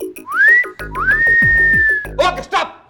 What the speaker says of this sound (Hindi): आप ये सीटी बजाइए, हम रिकॉर्ड कर लेंगे।